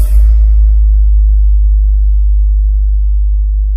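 Deep, loud sustained bass test tone played through a JBL speaker for a sound check, a steady low hum that starts with a brief crackle and then holds evenly alone.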